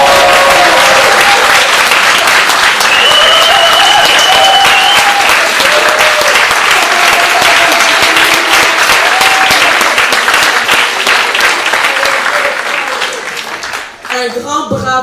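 Loud, sustained applause from a large audience at a youth summit for the organizing committee, a dense wash of clapping lasting many seconds with cheering voices rising over it before it thins out at the end.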